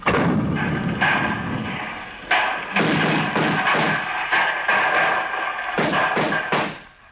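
Heavy booming cannon blasts go off in a rapid irregular series at a street barricade, each a deep thud with rumbling tails, close by.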